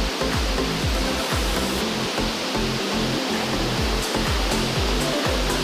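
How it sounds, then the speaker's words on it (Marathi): Nangartas waterfall at Amboli in the monsoon pours down with a loud, close, unbroken roar of falling water, heard alone. "किती वैना खाली पाणी पडता"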